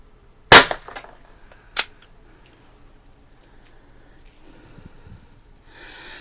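A Diana Chaser .22 caliber CO2 pistol fired at a target: two sharp, loud pops about a second apart, followed by quiet handling noise and a faint hiss near the end.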